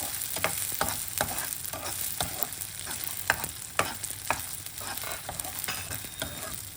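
Sago pearls roasting in ghee in a pan give a soft, continuous sizzle, broken by frequent light scraping taps of a spoon stirring them at a steady, quick rhythm.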